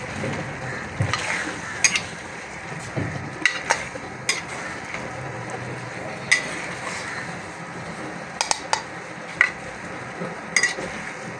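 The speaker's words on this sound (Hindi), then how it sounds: "अच्छी तरह से हिलाकर इसको, ताकि सारा जो मसाला है ना सारे पीसेस में अच्छी तरह से मिक्स हो जाए।" A metal spoon stirs chicken pieces coated in masala in a pan for a homemade Sindhi dish, with a steady soft sizzle under irregular sharp clinks and scrapes against the pan.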